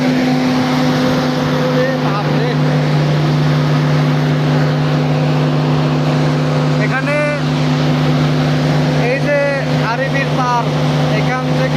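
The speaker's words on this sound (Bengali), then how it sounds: "আমার একটা জেনারেটর চলতেছে" A generator engine runs continuously at an electrical substation with 33 kV transformers, giving a steady, loud hum with a strong low drone. Someone speaks over it briefly.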